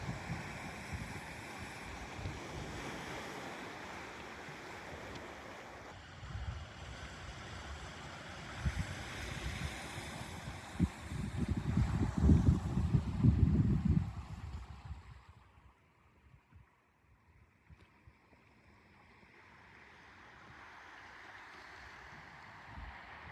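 Surf breaking on the beach at Gull Cove near Gabarus, Cape Breton, a steady wash of waves with wind, swelling louder around the middle and then easing to a softer, more distant roll.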